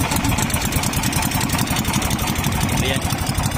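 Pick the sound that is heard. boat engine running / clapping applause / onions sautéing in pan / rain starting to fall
boat engine running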